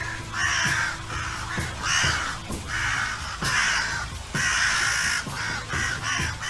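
Crows call over and over in a snowy mountain setting, giving loud, harsh caws in quick groups with short pauses between them, close and clear with no voices.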